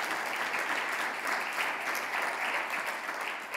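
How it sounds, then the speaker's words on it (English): Audience applause at the closing plenary session of the GAPS 2019 conference: a dense, steady wash of many hands clapping together, held at an even level throughout. "I still like a round of applause for these guys."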